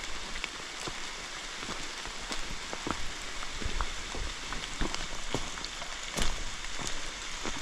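Rain falls steadily on a wooded section of the Appalachian Trail, a continuous hiss with scattered sharper drops tapping nearby, heard alone without talk.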